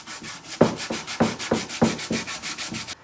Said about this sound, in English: And then just do this with a little bit of sandpaper.